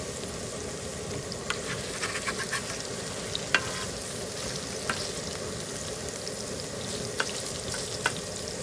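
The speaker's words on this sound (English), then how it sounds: "Let them cook slowly. You want them cooking slower than those French fries." Pork patties and French fries fry in lard on a Southwest disk, giving a soft continuous sizzle with scattered small pops and crackles at moderate distance, no voices.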